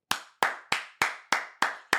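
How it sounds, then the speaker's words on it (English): A single pair of hands claps seven times in an even, deliberate rhythm, each crisp, close, loud smack ringing briefly before the next, with no talk around them. "Can we get a round of applause for Donald J. Trump?"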